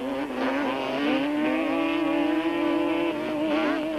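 Yamaha racing motorcycles scream past on a 1998 Super Series circuit, one loud sustained high-revving engine note that rises and wavers in pitch throughout, with no talk.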